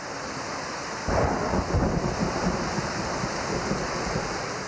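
Heavy monsoon rain pours down in Sindh as a deep roll of thunder breaks in and rumbles on, all under a dense, continuous hiss of rainfall.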